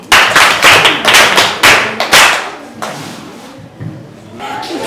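A group of children claps for a girl at a school gathering, loud and close, in several rhythmic bursts of sharp claps that taper off, with a person talking over the end.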